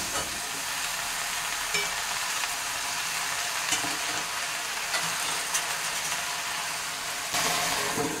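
Malabar spinach and sweet corn fry and are stirred in a pan, a steady close sizzle running throughout with occasional scraping stirs and no talking.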